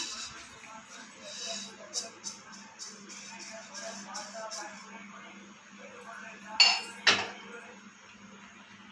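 Roasted rice is tipped into a pan while making chili powder, giving a light rustle and scattered clinks of utensils against metal, then a couple of sharper knocks, close up and fairly quiet with a steady background hum.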